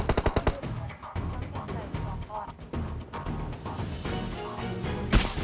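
Rapid automatic gunfire in PUBG Mobile, a fast burst of close shots at the start followed by more scattered shots and a sharp bang near the end, with a player talking over the game sound.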